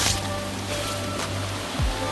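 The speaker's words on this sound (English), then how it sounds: "I hear water as I walk through the valley" Running water rushes steadily through a valley on a Kauai hiking trail, a soft continuous broadband wash heard from a distance with no talking, ending in a brief low thump.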